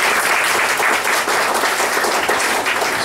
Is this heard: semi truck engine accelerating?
no